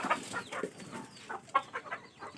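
Several soft, short clucks from nearby five-month-old Fayoumi hens, uneven and scattered across a couple of seconds in a quiet setting.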